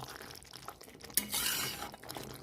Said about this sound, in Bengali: ভালো করে নেড়ে করে দেখে নেব।